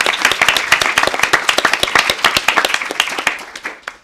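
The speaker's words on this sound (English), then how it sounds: "Give her a round of applause." Applause at a panel event, a dense run of sharp hand claps from an audience, loud and continuous before thinning and fading toward the end.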